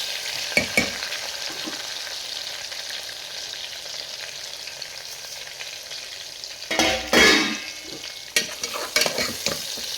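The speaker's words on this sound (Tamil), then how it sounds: "பாருங்கள், நல்லா வெங்காயம் வதங்கட்டும்." Onions fry in a pan for tomato rice, a steady soft sizzle punctuated by a few scraping stirs of a spoon, loudest in a brief burst near the end, with no talking.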